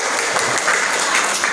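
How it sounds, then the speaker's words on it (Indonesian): Audience applause at a children's Quran recitation and preaching contest, a dense, loud, continuous clapping from a crowd filling the whole moment. "Tepuk tangan dulu dong buat saya."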